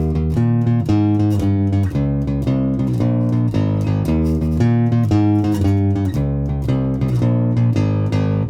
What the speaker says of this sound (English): The bridge sounds like this.